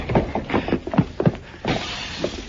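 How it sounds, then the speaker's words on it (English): Men crash out through a front window in an old Western radio drama, with a burst of shattering glass followed by clattering shards and scattered impacts over a couple of seconds. "They crashed out through the front window, Mr. Dillon."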